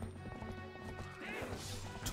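Horse hooves clip-clop in The Legend of Zelda: Twilight Princess HD, a short run of steady hoofbeats mixed with crashing game effects and background music, with a faint whinny.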